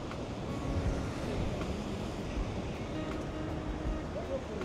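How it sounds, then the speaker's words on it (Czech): Calm ocean waves along the Madeira coast near Camara de Lobos, a steady broad wash of surf mixed with wind rumbling across the microphone, continuous and fairly loud throughout. "Krásný klidný oceán."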